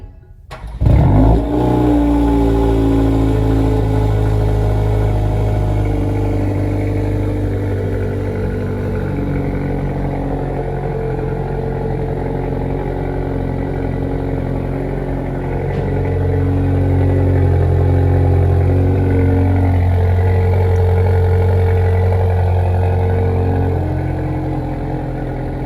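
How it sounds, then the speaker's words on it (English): A Hyundai i30N hot hatch cold-starts with a quick crank and a loud catch, then settles into a steady, deep idle that holds close and continuous, with a slight rise in revs midway and no voices. "that was the cold start of the car"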